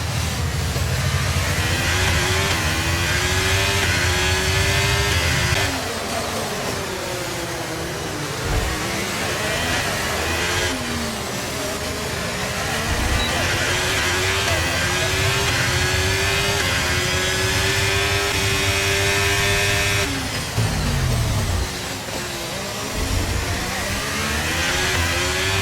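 An F1 racing car engine in the F1 23 video game, screaming at high revs in a continuous loud whine that rises and falls through gear changes as the car rejoins the race after a pit stop.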